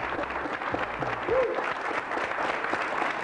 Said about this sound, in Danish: Skal vi ikke klappe og sætte den?